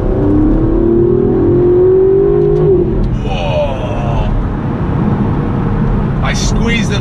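An Aston Martin DB11 accelerates hard from inside the cabin, its engine note rising in a climbing whine before a gear change, with loud road and wind rumble throughout.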